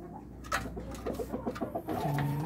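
Rhode Island Red breeder hens in a cage on a farm give a run of soft, quick clucks and low throaty calls close by, ending in one longer drawn-out note.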